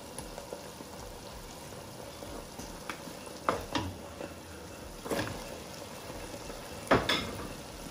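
Onions frying with cooked meat for a bolognese sauce, a soft, even sizzle in the pan broken by a few louder scrapes and clatters of stirring, no voices.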